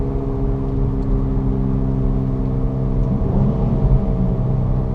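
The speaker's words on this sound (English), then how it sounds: "for those of you who know Infiniti has pretty good sounding exhaust" Stock exhaust of a 2005 Infiniti G35 coupe with a single pipe splitting to a muffler, a steady low engine drone and rumble held loud and close for several seconds with no talking.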